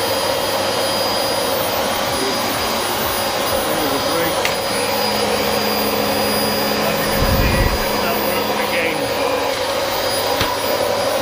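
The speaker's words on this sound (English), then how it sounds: "back to the Dyson DC25, we power him up like so." A Dyson DC25 upright vacuum cleaner runs after a repair, a loud, steady close motor whine with a constant airy roar throughout and a brief low rumble partway.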